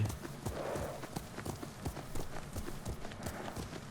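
A white horse gallops in Ghost of Tsushima, its hooves drumming in a quick, steady clip-clop rhythm that stays close and fairly loud throughout, with a low rumble of game ambience underneath.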